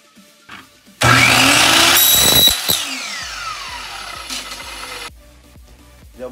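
A loud power cutting machine slices an aluminum window screen frame, with a sudden high whine and grinding that lasts a few seconds, then spins down, followed by faint clicks and handling knocks.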